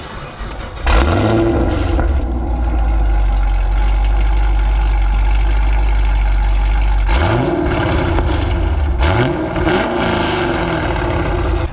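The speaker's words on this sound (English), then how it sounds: "we're gonna go for a ride and listen to what this car sounds like" A 2014 Chevrolet Camaro SS/RS engine with a modified exhaust idles with a deep, steady low rumble, broken by a few quick revs that rise and fall before settling back.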